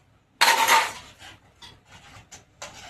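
A spoon scraping and clattering against a pot while tofu curry with chili powder, turmeric and salt is mixed: one loud scrape, then several softer, irregular scrapes and knocks, close by with no talking.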